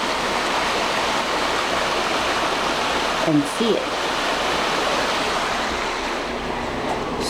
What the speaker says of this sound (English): And the brook is out this way. You can hear it